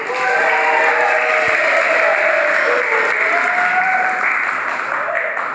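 Applause from a classroom audience at a teaching session, a steady dense patter of clapping mixed with cheering and whooping voices, loud and close for several seconds before easing slightly.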